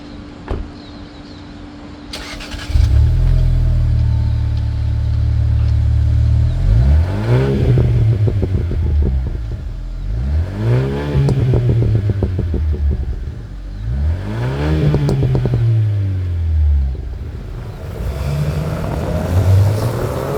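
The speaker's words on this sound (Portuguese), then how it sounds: "ele tem um sistema de escapamento que é próprio, desenhado aqui especificamente para o Pulse Abarth, com essa saída dupla de um único lado" Fiat Pulse Abarth with a dual-outlet sport exhaust starting up, then revved repeatedly, each blip rising and falling in a deep raspy note, loud and close with roughly four distinct rev cycles over a steady idle.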